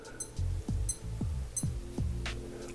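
A Casio G-Shock GD400 digital watch gives several short, high electronic beeps spaced irregularly, close and clear over faint low handling clicks and rustle.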